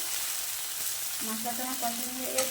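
Spice paste sautéing in a pan for a cauliflower and duck egg dish: a steady, close hiss of sizzling oil runs throughout, with someone speaking over it in the second half.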